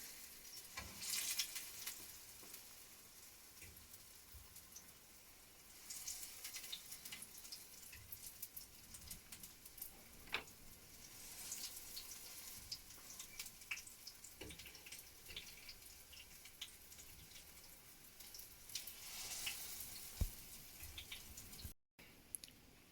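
Soft, constant sizzling and crackling of onion pancake batter frying in hot oil in a pan, faint and continuous with occasional small pops.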